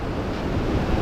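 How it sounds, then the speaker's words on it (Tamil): Wind gusting over large sea waves breaking along the coast, a steady, loud, close roar of surf and wind buffeting the microphone for about a second. "ஆனால் காற்றடிக்கிறது பெரிய பெரிய அலைகளை பார்க்கக்கூடியதாக இருக்குது."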